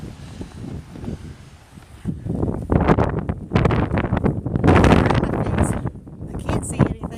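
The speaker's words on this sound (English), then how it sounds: "That's how windy it is." Strong wind gusts roar across the microphone on a hilltop in Evergreen Cemetery, Barrington, Illinois, a loud broadband rush that swells and buffets throughout with rustling bursts.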